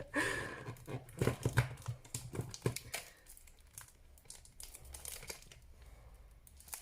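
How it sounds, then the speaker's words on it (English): Crinkling cellophane packaging being pulled open during an art-supply unboxing, a close, bursty crackle and rustle in quick irregular bursts that thins out toward the end. "we've got some more packaging. hate this kind of cellophane stuff"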